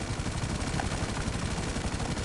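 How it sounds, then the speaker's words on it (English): A helicopter in Grand Theft Auto Online gives off a loud, steady rotor thump and engine roar, dense and close, filling the whole moment without a break. "Oh, damn, they got a helicopter"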